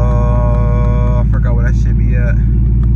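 Engine of a Dodge Challenger wide body Scat Pack idling with a steady low rumble throughout, while a person talks briefly over it close by.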